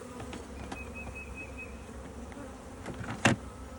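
Honeybees in an opened spring hive give a continuous close buzzing hum, with individual bees droning past and a brief louder thump near the end.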